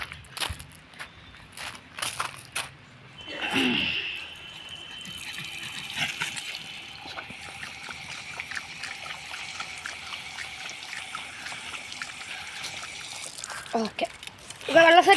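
Water is poured out for a pet dog named Bruno, a trickling, splashing pour that runs steadily for several seconds after a few footsteps and knocks. A person speaks briefly near the start and the end.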